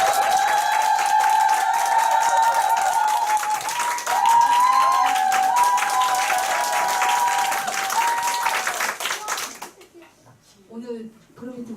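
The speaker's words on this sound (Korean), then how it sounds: "최은아 사장님 앞으로 오실 때 큰 박수 부탁드리겠습니다" Audience applause at a business meeting, loud sustained clapping for about ten seconds over background music, then dying away as a voice begins talking.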